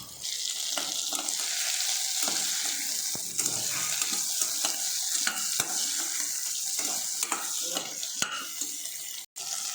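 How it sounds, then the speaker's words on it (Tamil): Onions frying in a pan for a Karaikudi mutton uppu curry, with a dense, loud hiss and crackle throughout and irregular stirring scrapes on top, close by and with no talk. "வெங்காயத்தை நல்லா வேணுங்க ஒரு அஞ்சு நிமிஷம் நல்லா வதக்கிக்கலாம்"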